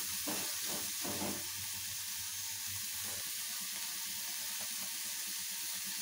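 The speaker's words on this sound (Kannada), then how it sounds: "ಈರುಳ್ಳಿ ಚೆನ್ನಾಗಿ ಫ್ರೈ ಆಗಲಿ" Onions fry in a pan for a mutton brain fry, a constant hissing sizzle with a few soft knocks and clatters early on and no speech.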